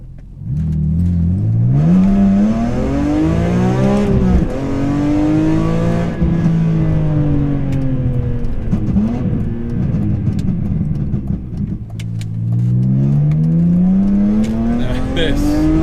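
BMW S54 engine in a Project M3, revving and pulling hard on a winding road with rising and falling exhaust drone, crisp pops on lift-off, loud and close throughout.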